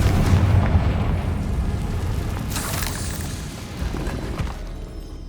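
A Confringo fire spell explodes in the Hogwarts Legacy game, a loud deep boom with a rumbling blast that decays gradually over about five seconds with crackling debris.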